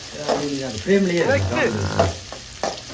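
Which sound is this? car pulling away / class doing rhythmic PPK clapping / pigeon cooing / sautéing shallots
sautéing shallots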